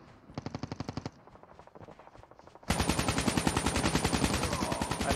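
Automatic gunfire in the mobile shooter Call of Duty Mobile, a short rapid burst followed after a pause by a longer, louder sustained burst of rattling shots, with no voices.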